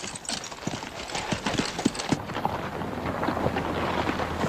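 Horses' hooves clop slowly and unevenly on open ground as troopers lead their mounts after dismounting, heard alongside steady wind noise with no talk.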